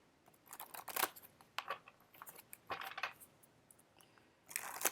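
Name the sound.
shuffling tarot cards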